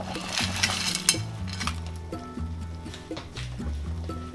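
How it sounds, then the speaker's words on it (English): Crawfish dropped into a pot of boiling soup during an outdoor crawfish boil, with busy clattering of metal and pot knocks and a steady bubbling, stirring backdrop at close range. "Okay, the soup is ready. It's boiling. Put the crawfish in."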